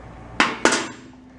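Metal wrench clanking against a fuel fitting on a small marine diesel engine that has sat for 20 years, two sharp close metallic taps in quick succession that ring briefly.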